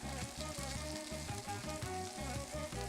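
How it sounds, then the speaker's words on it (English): Ginger, nutmeg, fenugreek, barberry and black cardamom sizzle and fry in a pan, heard close up as a continuous crackle with a steady, repeating scraping rhythm. "all those spices, the ginger, the nutmeg, our fenugreek, our barberry, our black cardamom, all around the pan. And you continue to scrape up those bits."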